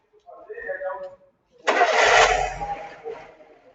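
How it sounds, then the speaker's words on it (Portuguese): A Fiat Palio Fire 1.0 car engine is cranked and catches after someone speaks, a close, loud starter whirr that turns into a rough rumbling idle and then settles. "Vamos dar a partida. Vai lá, pode ligar, por favor."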